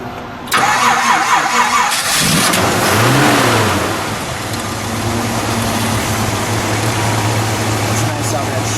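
A 1969 Mercury Cougar XR7 convertible with a 428 engine cranks and catches, revs up loudly, then settles into a deep steady idle, while people talk nearby.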